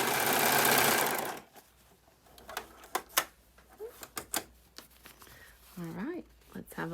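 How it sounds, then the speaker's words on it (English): An overlocker sewing machine stitching a hem: a loud, steady, close mechanical whirr for about a second, then it stops, followed by quieter small clicks and handling noises while a person speaks. "Now, you don't want to try to go too fast because you'll get skip stitches, so let the overlocker pull it along as it wants to."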